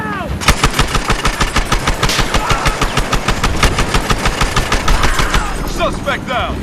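Rapid automatic gunfire from the Battlefield Hardline video game, a dense, loud burst of evenly spaced shots running nearly the whole clip before tapering off at the end.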